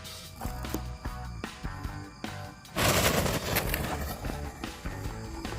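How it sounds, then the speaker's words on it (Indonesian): A blue mercon bola launcher firework going off, a dense crackling burst of rapid pops that swells loudly near the three-second mark after a few sharper bangs, then keeps sputtering at close range. "Ini sekarang kita lanjut menyalakan mercon bola launcher"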